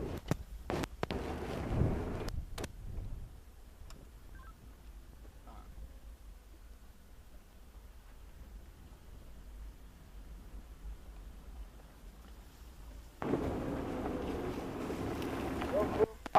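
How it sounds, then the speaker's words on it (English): Wind buffets the microphone in gusty low rumbles on an outdoor safari, with sharp knocks early on and a stronger roaring gust near the end. "Oh, it's so windy."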